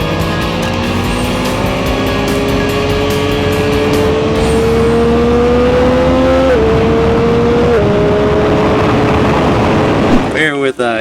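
BMW S1000RR superbike at speed on a race track, a loud, close engine drone with rising pitch through the gears and shifts, wind roar underneath, and a rider talking over it.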